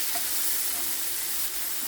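A small lump of tamarind sizzles in a hot pan while being sautéed for sweet kuzhi paniyaram batter, a soft steady frying hiss with faint stirring.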